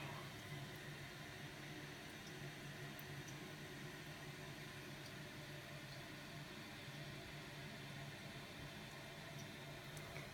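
A toilet tank refills with water as a faint, steady rushing hiss that holds unbroken and even throughout, quiet and alone with no other sounds over it.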